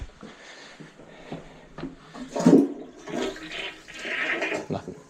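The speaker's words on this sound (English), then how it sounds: "Let's just give that toilet a quick flush." A household toilet being flushed during work on a main line stoppage, a single rushing swirl of water building and draining over several seconds, close by and alone.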